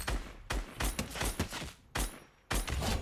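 Gunfire in the Fortnite video game comes in rapid bursts of loud, sharp shots with brief pauses between volleys.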